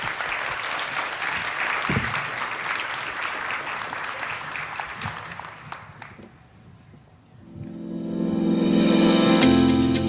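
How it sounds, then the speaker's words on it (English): An audience at a health care policy program applauds, steady clapping that fades out midway, then swells again into loud, sustained applause. "So please help me give a round of applause to Hemi"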